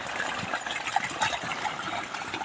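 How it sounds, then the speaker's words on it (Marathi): Water gushes steadily into a maize plot on a farm, a continuous close, fairly loud rushing and splashing with no voices. "किती छान पाणी पडतंय बघा आणि आवाज पण किती छान आहे"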